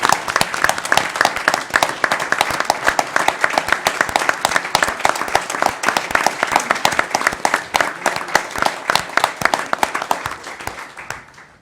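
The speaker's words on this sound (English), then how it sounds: "applause" A county commission meeting audience gives a sustained round of applause for two young fishing competitors, their coaches and captain; dense, steady clapping from many hands holds for about eleven seconds before tapering off at the end, with no talk over it.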